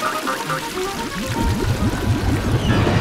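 A toilet flushing in a staged household skit, a rushing swirl of water that starts softly and swells into a steady gurgling pour for a few seconds, fairly loud and close.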